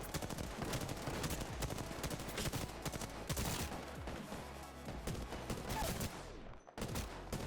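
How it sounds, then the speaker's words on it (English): Enemy gunfire rattles through a session of the video game Apex Legends, dense loud automatic bursts and shots crowding together almost continuously, with a brief gap near the end. "The enemies are shooting at me."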